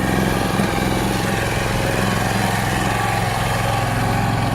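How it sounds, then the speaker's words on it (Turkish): An H 130 Pro hazelnut harvesting machine runs through muddy ground after heavy rain, its engine droning loud and close in a constant, steady rumble with no letup. "bir bildiğiniz traktör gibi çalışıyor"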